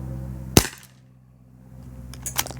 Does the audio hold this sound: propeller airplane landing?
no